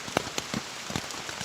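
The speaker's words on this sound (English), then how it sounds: "As you can probably hear, it is raining." Heavy rain on an Appalachian Trail morning patters and splashes on a nearby surface, with scattered louder drops standing out against a steady wet hiss, heard alone with no talking.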